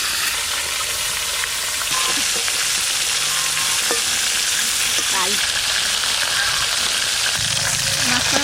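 Pieces of katla fish fry in oil in a pan with a loud, dense, continuous sizzle and crackle, close up, while a voice briefly speaks.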